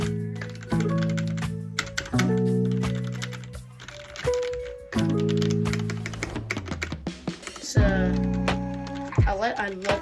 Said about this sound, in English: I love the sound of this keyboard and mouse